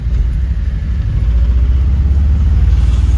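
Loaded goods truck crawling slowly through a turn at a crossing, a steady low engine rumble with continuous road noise, close and fairly loud throughout with no talk.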